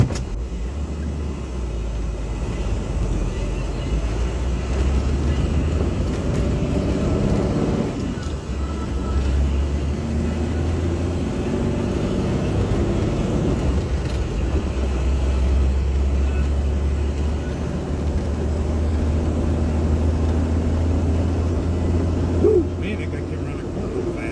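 A Jeep CJ7 drives along Highway 20 toward Fort Bragg, California, its steady low engine drone and road rumble holding continuously throughout, with a brief louder knock near the end.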